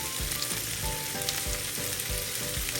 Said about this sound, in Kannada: ಇವಾಗ ಶ್ರಿಂಪ್ ಆ್ಯಡ್ ಮಾಡ್ಕೊತಾ ಇದ್ದೀನಿ. ಇನ್ನು ಫ್ಲೇಮ್ ಸ್ವಲ್ಪ ಹೈಯಲ್ಲೇ ಇಟ್ಕೊಳ್ಳಿ.